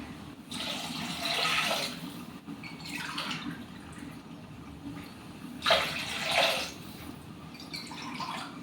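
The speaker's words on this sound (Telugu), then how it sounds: "గ్లాసున్నర బియ్యం తీసుకున్నా కదా, 3 గ్లాసులు నీళ్ళు వేస్తున్నా." Three separate glassfuls of water are poured into a cooking pot for pulao rice, each a splashy gush lasting about a second with quiet gaps between them, heard close and clear.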